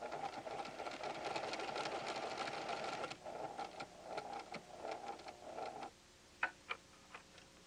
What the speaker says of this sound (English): Lower the needle here and sew the left cross stitch.